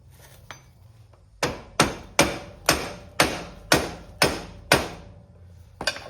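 A hammer strikes about eight times in a steady rhythm to pop a ball joint loose during CV axle work on a four wheeler, each blow a sharp, close metallic whack that rings briefly, with faint taps before and after.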